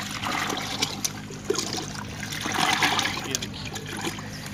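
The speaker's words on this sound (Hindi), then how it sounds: "इस तरीका से चारों तरफ गमलों में आप बिल्कुल दे दें इस तरह से, बिल्कुल इसको भर दे गमले को पानी से" Mustard oilcake water poured from a container into flower pots of a tiger rose plant, a steady splashing trickle with a brief surge midway, close and moderately loud throughout.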